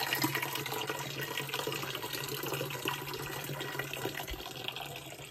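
Water runs steadily from a tap in a village home during Diwali cleaning, a continuous close hiss and splash lasting throughout with no talk over it.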